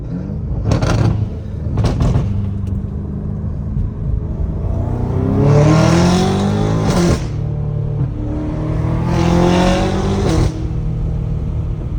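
A BMW M5 F90 Competition with a full titanium exhaust and downpipes, heard from inside as the engine revs rise and fall through gear changes, with loud surges and brief sharp cracks between shifts.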